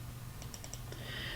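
Quick mouse clicks on a computer during an insurance company financial screencast, a few light, close ticks in a short cluster over a steady low hum, no voice.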